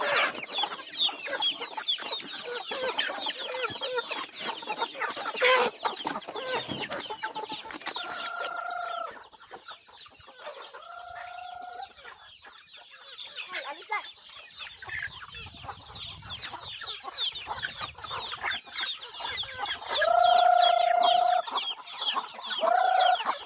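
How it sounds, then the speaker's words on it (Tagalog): Chickens cluck and chatter constantly nearby, with a few louder squawks and calls rising above the busy flock. "nagkakagulo na yung aming mga alagang manok"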